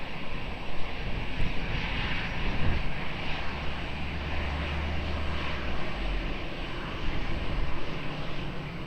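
An Emirates airliner takes off from a runway at Lisbon Airport on a windy day, its engines giving a broad, steady roar that swells slightly and holds at a distance.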